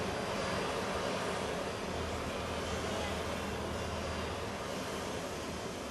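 A plane lands in a broad, steady roar of engine and rushing air that stays loud and even throughout, with no clear voices over it.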